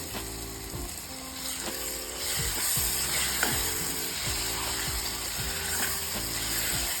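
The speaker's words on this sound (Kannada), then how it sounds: "ಈಗ ಬದನೆಕಾಯಿ ಟೊಮ್ಯಾಟೊ ಈ ಮಿಶ್ರಣನ ಇದರಲ್ಲಿ ಹಾಕ್ಕೋತಾ ಇದ್ದೀನಿ" A brinjal and tomato mixture sizzles loudly and steadily in a hot pan for brinjal bharta and coconut sambar, with low rattling scrapes recurring in a loose rhythm throughout.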